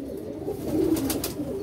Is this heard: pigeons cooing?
yes